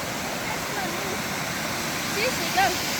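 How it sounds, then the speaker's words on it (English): Spring runoff water rushing down a mountainside in Glacier National Park, a loud continuous roar of falling water that fills the whole clip. "Got tons of water coming down in the spring runoff."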